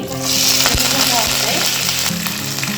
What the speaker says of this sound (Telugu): ఇప్పుడు కరివేపాకు, పచ్చిమిర్చి, ఉల్లిపాయలు అన్నీ కలిపేసేసుకోండి.